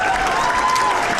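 Round of applause from an audience at a charity event, a steady broadband patter of many hands clapping filling the room, fairly loud and continuous, with faint crowd noise mixed in.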